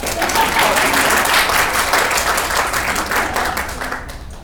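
Dense, continuous applause from an audience at a murder-mystery show fills the moment before a tiebreaker round, loud and close, with no talking over it.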